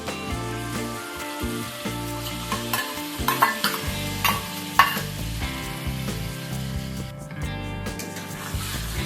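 A duck egg and potato curry is stirred in a frying pan, a steady scraping and clinking of a utensil with soft sizzling underneath, close and continuous throughout.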